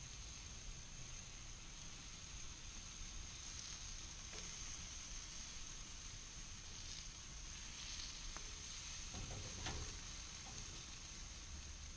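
Kielbasa sizzles on a hot gas grill with three of five burners turned up high, a soft continuous frying hiss with a few faint clicks and taps of handling, heard alone.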